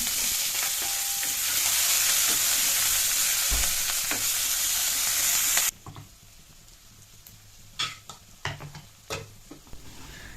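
Chopped onions with bay leaf and cumin sizzle steadily in hot oil, a loud, bright frying hiss for the first half that drops to softer crackle with occasional stirring scrapes and clinks.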